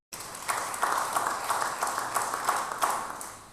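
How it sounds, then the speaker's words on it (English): Audience applause in a church setting during a talk on Christ the King, a steady wash of many hands clapping at moderate volume for a few seconds with scattered louder claps, no one speaking. "Give me a round of applause"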